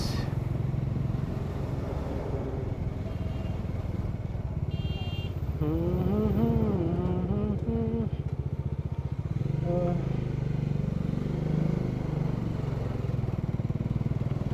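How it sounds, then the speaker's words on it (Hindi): Road traffic around a motorbike on a long ride between Diphu and Siliguri: steady engine and road rumble throughout, with horn-like tonal bursts in the middle, and people talking over the noise. "ट्रैफिक ही ट्रैफिक मिल रहा है गाइस।"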